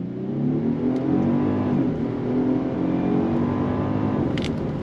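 A 2025 Genesis G90 twin-turbo sedan with an electric supercharger pulls hard under throttle, its engine note climbing steadily and loudly from inside the cabin, with one brief gear-change dip midway.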